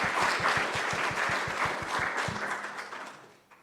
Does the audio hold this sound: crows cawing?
no